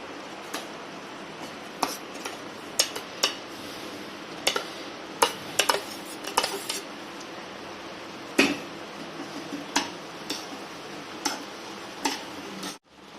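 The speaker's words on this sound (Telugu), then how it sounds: "పాకంలో వేస్తున్నాను చూడండి రైస్" Cooked rice is stirred into sugar syrup for sweet chakkara pongal, with a spoon tapping and scraping the pot in irregular clinks over a soft bubbling background.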